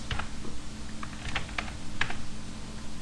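Typing on a computer keyboard while entering Excel functions, heard as a few sharp key clicks scattered across three seconds, including a distinct Enter press near the end, close and clear over a low steady room hum.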